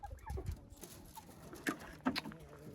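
Chickens clucking as the coop is opened at a village farm, faint scattered clucks and short calls close by, with quiet background noise and a few sharper bird sounds.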